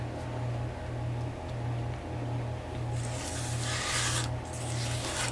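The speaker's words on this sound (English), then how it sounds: "use a spatula to get the rest of the stuff out" Spatula scraping the last chocolate chip cake batter, made from a cake mix, out of a bowl: soft rubbing and rasping strokes over a steady low hum, growing louder and denser toward the end.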